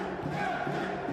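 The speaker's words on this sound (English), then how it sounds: "Crowd are chanting for Nadir." Stadium crowd at a Kings World Cup Nations football match between Morocco and Colombia chanting for a player, a dense, rhythmic roar of many voices heard briefly and steadily.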